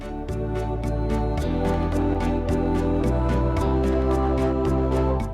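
Arranger keyboard playing an A4 section with big, full harmony, loud sustained chords over a driving bass line and a steady percussive beat, about five seconds of dense backing with no talking.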